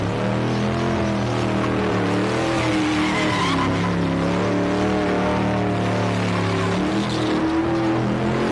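A Holden Kingswood ute spins donuts at a 1980s street machine event, its engine droning loud and steady while the tyres skid and squeal continuously.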